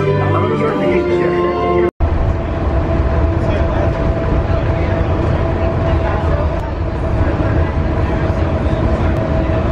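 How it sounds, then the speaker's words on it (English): Inside the Disney Express monorail gliding toward the Magic Kingdom, a steady rolling rumble and hum fills the car, broken by one brief dropout, with muffled voices in the background. "Express monorail, your highway in the sky to the Magic Kingdom."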